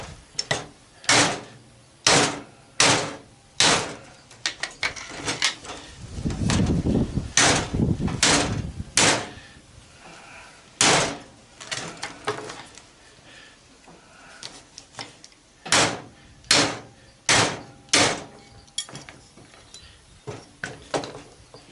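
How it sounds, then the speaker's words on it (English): Cross peen hammer blows striking the outer edge of a scrapped washing machine motor's metal stator, sharp metallic knocks in irregular bursts with a rougher scraping stretch midway, close and loud with no talk. "I use this, like this cross peen. Try to hit it just to the outside of the metal"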